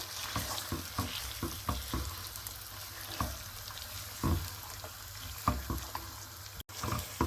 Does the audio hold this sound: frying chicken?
yes